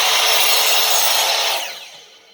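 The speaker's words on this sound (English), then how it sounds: "What a perfect drywall cut." Kobalt saw blade ripping through drywall, a loud, bright continuous cutting whine up close that fades out over the last second as the cut finishes.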